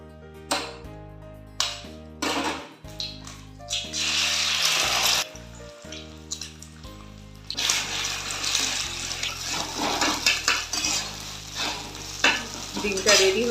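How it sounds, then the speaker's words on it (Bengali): Eggs fry in plenty of white oil in a hot kadai wok, crackling and sizzling in bursts with stirring noises, beneath background music. "ডিমগুলোকে ভেজে তুলে নেব।"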